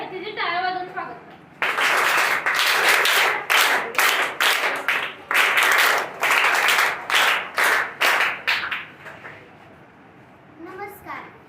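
A school audience claps in welcome at a Gandhi and Shastri Jayanti function, a loud sustained burst of applause that swells, comes in uneven waves, then thins out, with a voice briefly heard before it starts.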